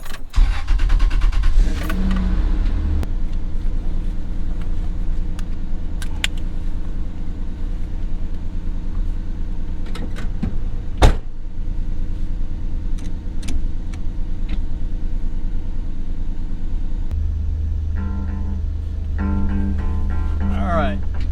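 A car fitted with a homemade short throw shifter idles and drives with a steady low engine hum inside the cabin, with scattered clicks and a brief clunk, and people talk over it.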